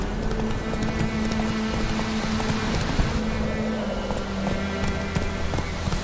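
Roach the horse galloping in The Witcher 3, a continuous loud clatter of hoofbeats over steady rushing ambience, with no talk.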